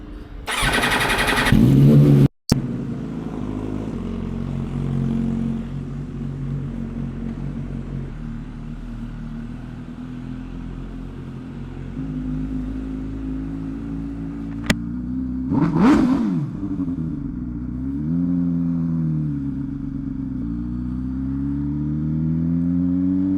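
A Lamborghini Superveloce engine fires with a loud burst and settles into a steady, deep idle rumble, then blips through a sharp rev and falls back to a throbbing warm idle, close and with no talking.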